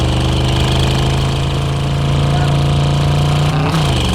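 A car engine in the video game Drive Beyond Horizons, a loud, steady idling drone with a knocking rumble that holds throughout.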